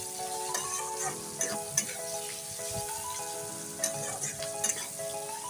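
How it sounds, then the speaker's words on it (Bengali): Vegetable chowmein with carrots and potatoes frying in a pan, a soft continuous sizzle with light stirring scrapes under faint background music. "দু মিনিট পর আমি ঢাকাটা খুলে দিয়েছি দেখো খুব সুন্দরভাবে ভাজা হয়েছে"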